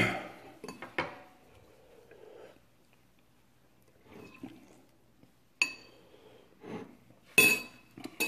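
Cutlery clinks and scrapes against a dish as spicy noodles are cut, coming in sparse bursts with quiet pauses between and a few brighter metallic chinks near the end.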